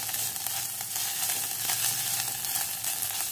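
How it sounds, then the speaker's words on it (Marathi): Chili thecha sizzles as it is sautéed in a pan for buttermilk kadhi, a dense, continuous crackling fry with faint stirring underneath, close and steady throughout. "ठेचा जरा छान असा परतून घ्यायचा"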